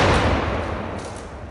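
Rifle shot setting off a Tannerite explosive target outdoors, a loud broadband blast that fades into a rolling decay over a second and a half, with no voices.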